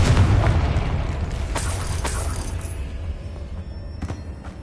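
A Confringo spell goes off in the video game Hogwarts Legacy with a loud, low, rumbling boom that slowly fades. A few sharp cracks and pops follow as the explosion dies away.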